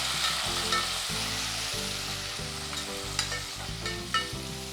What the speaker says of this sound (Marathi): आता याच्यामध्ये एक टमॅटो बारीक चिरून घालायचं आहे आणि चांगलंच परतून घ्यायचं